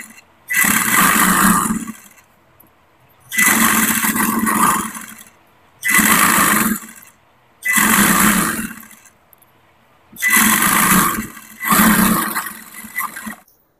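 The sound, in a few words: sewing machine stitching petticoat cloth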